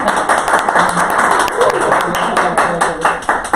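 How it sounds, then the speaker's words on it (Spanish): Audience clapping to welcome a guest onto a Spanish-language creativity talk stage, a steady loud round of applause with sharp individual claps standing out, lasting the whole moment. "Un aplauso que se escuche para ella."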